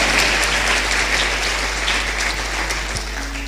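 Loud, dense applause from a church congregation fills the room steadily, with a low constant hum beneath and faint voices mixed in.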